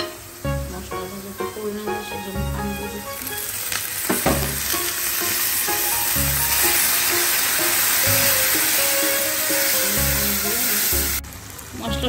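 Spices sizzling in hot oil in a pan over browned paste for a Bengali liver bhuna, a steady loud fry with stirring scrapes throughout and a brief drop near the end.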